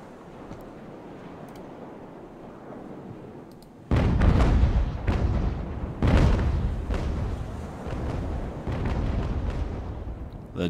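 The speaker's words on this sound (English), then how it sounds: "Let's get some grape shot going." Canister grape shot cannon fire in the naval battle game Ultimate Admiral: Age of Sail: booming broadside blasts start suddenly, with several heavy reports rolling one into another over a low rumbling background.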